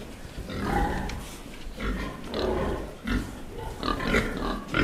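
Pigs grunting steadily at close range while being fed soft cellar beets with potatoes, the low snorts and grunts continuous and fairly loud throughout, with no speech.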